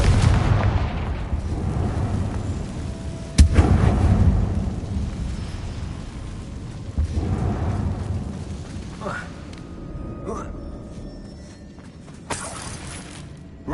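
Within a Hogwarts video game, a Confringo fire spell sets off a sharp blast followed by rumbling explosions and crumbling debris in a closed mine, several booming hits fading over time.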